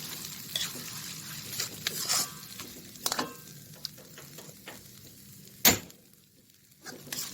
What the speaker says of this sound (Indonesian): Oke, sudah itu kita tumis deh sampai dia bau harum atau enggak jadi merah